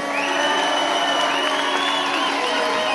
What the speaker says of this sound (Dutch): Graag een dank applaus voor beide vechters.